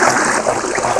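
A cartoon character in Bat Pat gulps water, heard as a brief, loud burst of trickling, gurgling liquid.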